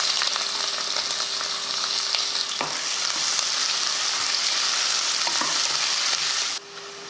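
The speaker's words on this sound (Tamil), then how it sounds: "வெங்காயம் பாருங்கள் நல்லா வதங்கிருச்சு." Onions frying in oil with cloves, star anise and a bay leaf in a pressure cooker, giving a steady close sizzle with a few scraping stirs, dropping abruptly near the end.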